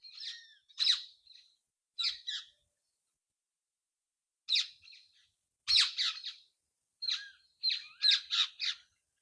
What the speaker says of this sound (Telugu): చూసారా రామచిలకలు ఎన్ని ఉన్నాయి అసలు